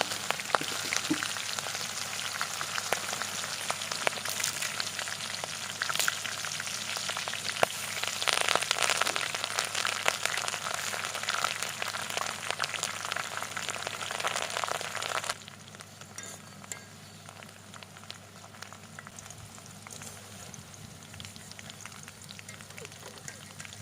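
Garlic, red and green chilies and curry leaves frying in oil for mushroom pakoda, a steady crackling sizzle that runs for a long stretch before dropping to a quieter hiss partway through.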